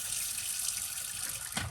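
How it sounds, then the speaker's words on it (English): Hot and cold caravan water taps run steadily with the van disconnected from mains water and the pump off, a continuous close hiss of flowing water with a brief splash near the end. "Turn your taps on, hot and cold,"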